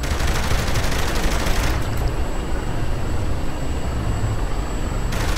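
Heavy gunfire in the Saints Row: The Third Remastered game, loud and continuous rapid shots forming a dense roar that shifts abruptly partway through and never falls silent.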